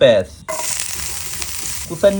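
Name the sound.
onion frying in soybean oil in frying pan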